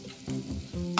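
Onion sautéing in a pan sizzles briefly and quietly, broken by a couple of short stirring scrapes within a single second.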